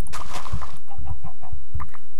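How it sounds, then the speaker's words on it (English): Chickens cluck in a Minecraft modded world, a series of short, fairly loud clucks in an irregular rhythm over a faint background hiss, with no talk. "I hear you, chicken."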